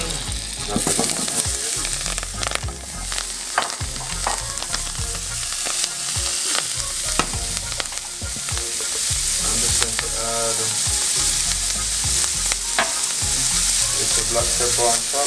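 Honey garlic pork chops sizzle in melted butter in a pan, a loud, close, continuous frying hiss dotted with crackles and pops that stays strong throughout.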